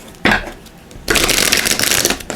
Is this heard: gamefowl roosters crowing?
no